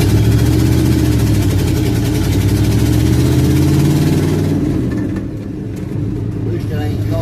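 A pickup truck's engine hums and rumbles steadily from inside the cab while driving on a wet, rainy day, loud and continuous, easing slightly near the end.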